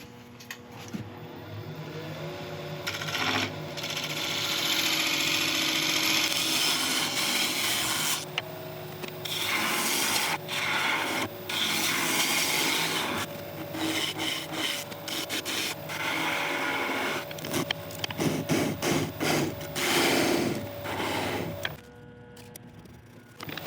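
A gouge cuts into a spinning sequoia redwood base on a lathe, a continuous loud rasping scrape over the motor's steady hum, the tool repeatedly lifting off and biting back in.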